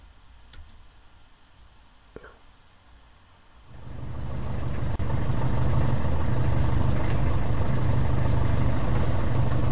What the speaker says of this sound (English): to give you the feel of the engine still running while he enters